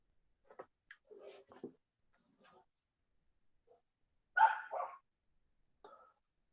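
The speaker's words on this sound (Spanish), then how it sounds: "Pueden llegar a escuchar un ruido de perros" Dogs bark in a few short, scattered bursts, faint and somewhat distant, separated by quiet gaps.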